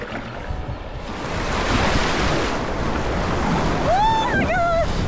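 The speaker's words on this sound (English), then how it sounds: "Coming up to some rapids here." River rapids rush loudly around a boat in a broad, roaring wash of water with wind buffeting the microphone, building steadily, and a brief high squeal or cry rising near the end.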